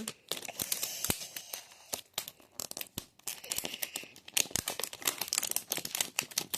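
Plastic packaging torn and crinkled while unwrapping packaged bath balls bought at Action, with dense, close rustling and sharp ripping bursts throughout and no talk.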